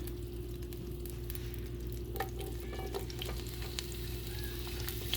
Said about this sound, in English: the butter has melted, and now I'm going to add the asparagus